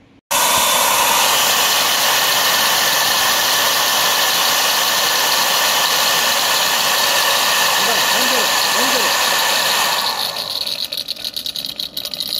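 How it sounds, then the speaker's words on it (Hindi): Tata turbocharger shaft spun by compressed air on a bench, a loud steady whine and rushing hiss with a rattling undertone, fading toward the end. "ये साफ्टिंग आउट घूम रही है और खुड़खुड़ की आवाज़ आ रही है"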